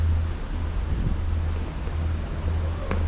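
High wind buffets a Disney Skyliner gondola riding over the Caribbean Beach area, making a steady, close, low roar that continues unbroken for the whole stretch.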